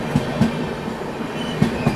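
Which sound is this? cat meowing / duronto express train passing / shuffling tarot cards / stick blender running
duronto express train passing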